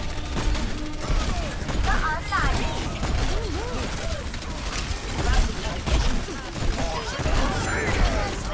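Flying bomb explosions in the video game Overwatch boom and crash in a chaotic burst of game combat, with whistling tones and mechanical clatter layered over continuous noise.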